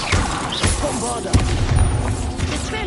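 Bombarda spell blasts in Hogwarts Legacy land as sharp booming thumps amid combat effects, with a heavy impact near the middle and a voice talking over the action.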